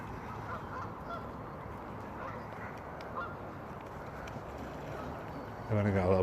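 Ducks, geese and swans at Westport Lake in Stoke-on-Trent honk and call over a continuous outdoor wash, with a louder burst of honking near the end and people talking nearby.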